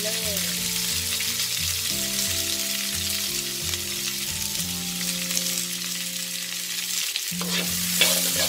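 Long beans and peanuts are stir-fried in a tablespoon of oil, giving a constant close sizzle and frying hiss under a steady low hum, alone with no talking.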